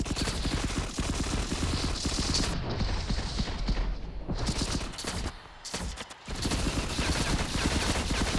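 Rapid gunfire from the mobile shooter FRAG Pro Shooter, dense bursts of shots crowding the first few seconds, a short lull, then more sustained firing, loud and close with game effects layered in.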